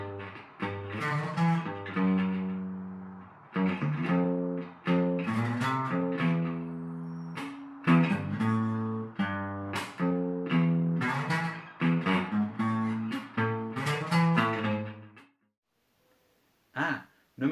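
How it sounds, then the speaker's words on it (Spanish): Electric bass guitar plucking a run of deep, rounded notes in a lively, bouncing rhythm, close and clear, stopping before a short quiet tail. "Se llama bajo eléctrico y suena así."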